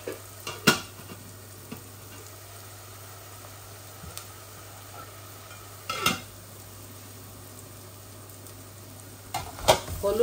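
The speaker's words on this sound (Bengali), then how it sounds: "এখন চিকেনটা আস্তে আস্তে ভুনা হোক।" Chicken slowly frying in a pan as a bhuna with dried fish, with a soft continuous sizzle and occasional scrapes and clinks of a spoon against the pan.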